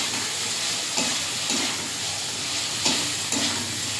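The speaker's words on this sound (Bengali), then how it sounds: "ভেজে রাখা পটলটা দিয়ে দেবো পরিমাণ মতন লবণ দিয়ে একটু নাড়াচাড়া করে" Pointed gourd that was fried earlier is stirred with salt into spiced oil in a village kitchen, giving a steady close sizzle with a few soft scraping strokes about every half second to second.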